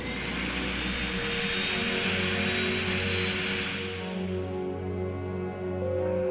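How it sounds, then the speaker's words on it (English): A helicopter's engine and rotors drone steadily nearby at a medical evacuation scene, a continuous whining roar with a low throbbing hum beneath, holding at even loudness throughout. "Ready for a helicopter ride?"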